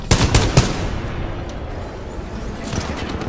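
Rapid bursts of gunfire from the campaign of the video game Titanfall 2 crackle loudly over the first half second, then give way to a rumbling battle wash with a few scattered shots near the end.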